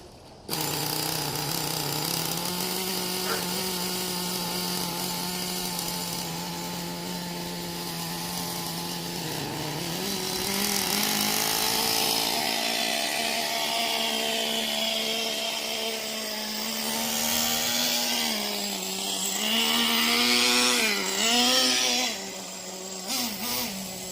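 Traxxas Jato 3.3 nitro RC car engine running on 30% nitro fuel outdoors on cold wet grass, a loud continuous buzzing drone that rises and dips in pitch with throttle blips, close and alone.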